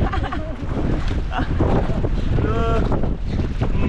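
Wind gusting over a boat on open water while children fish and fish surface around them, steady broadband rush with voices shouting over it.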